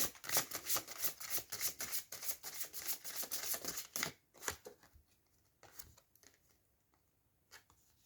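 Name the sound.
drawing a card from a deck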